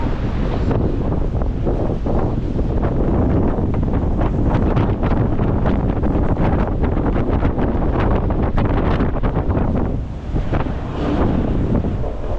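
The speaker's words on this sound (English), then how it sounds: "it's freezing and it's windy, so it's absolutely windy" Strong, continuous wind roars and buffets the microphone for the whole stretch on a freezing beach, a dense steady rush with only a brief dip near the end.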